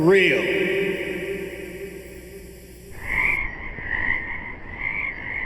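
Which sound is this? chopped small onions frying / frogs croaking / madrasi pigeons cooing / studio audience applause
frogs croaking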